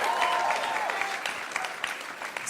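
A comedy-show audience claps and cheers loudly and continuously, with a bright burst at the start and scattered whoops throughout.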